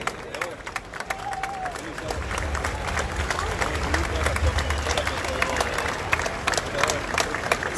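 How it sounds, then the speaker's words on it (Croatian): Outdoor crowd applause honouring special police at a Croatian veterans' parade with war flags on the Riva, a broad, sustained patter of clapping from a distance that swells and holds under a murmur of crowd noise. "Velikim pljeskom odajmo počasti pripadnicima specijalne policije."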